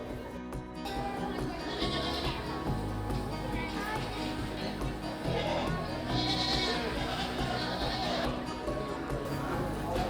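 A goat bleats in a busy livestock tent at the Royal Highland Show, with other sheep or goat calls and a steady crowd murmur and talk throughout.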